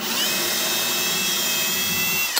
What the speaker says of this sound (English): Now I'm going to get out the bigger drill bit.